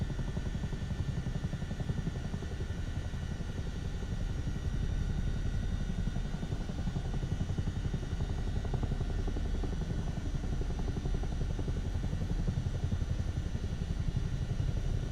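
A helicopter in Microsoft Flight Simulator 2024 comes in to land, its rotor a constant close, throbbing chop and turbine whine, steady and unbroken with a slight lift in loudness midway.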